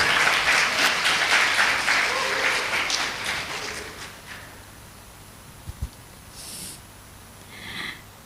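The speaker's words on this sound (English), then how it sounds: "Give applause." A conference audience at an herbs and toxicants event applauds keynote speakers, loud dense clapping for about four seconds that fades into quiet room tone with a couple of faint knocks.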